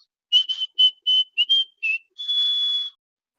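A person whistles a quick run of short, bright notes in a steady rhythm, then holds one long sustained note to finish, close and fairly loud with no talking.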